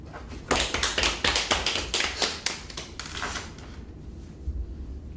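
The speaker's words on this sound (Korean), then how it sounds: "박수" A small group of people claps in a short burst of sharp hand claps, close and fairly loud, quickly tapering off into quiet.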